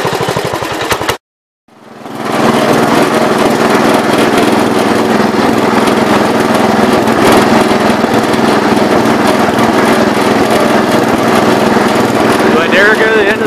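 A 1970 408 lawn tractor engine starts after a brief silence and settles into a loud, steady running drone close to the listener, with no talk over it.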